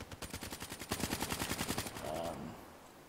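Automatic gunfire in the video game Black Ops 3, a rapid steady burst of about two seconds of evenly spaced shots, loud and close, ending in a brief fading tail.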